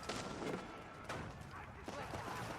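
Cannon fire from Holy Roman Empire cannons in an Age of Empires match: several booming blasts roll out in quick succession, layered with battle noise beneath steady commentary.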